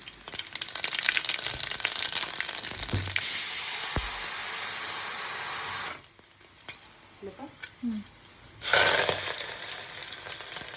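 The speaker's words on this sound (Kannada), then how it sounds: "ಇಲ್ಲಿ ಎಣ್ಣೆ ಕಾಯ್ದದ, ಜೀರಿಗೆ ಸಾಸಿವೆ ಹಾಕ್ತಾರೆ" Cumin and mustard seeds hiss and sizzle loudly in hot oil in a home kitchen, in two strong bursts separated by a quieter stretch with light clatter.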